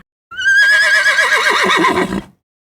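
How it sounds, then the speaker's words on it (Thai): A horse gives one loud, drawn-out neigh lasting about two seconds, its whinny wavering and fading at the end, heard alone and close. "ไปฟังเสียงของม้ากันค่ะ"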